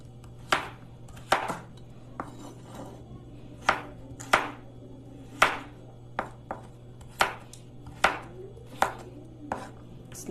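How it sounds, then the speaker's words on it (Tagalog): Vegetables being sliced for a Filipino stir-fry on a cutting board: a knife lands in about fifteen sharp, distinct chops at an uneven but steady pace, close by over a low constant hum, with no talking. "Slice na natin yung ating mga gulay."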